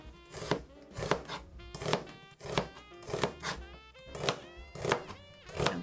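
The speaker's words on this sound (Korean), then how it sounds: "양파를 잘 얇게 썰어서 한쪽에다가 둘게요" A kitchen knife thinly slices onion on a cutting board in close, crisp, even strokes, roughly two chops a second, with no talking.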